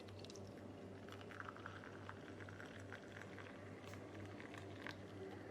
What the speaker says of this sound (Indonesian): kemudian kita tuangkan air ya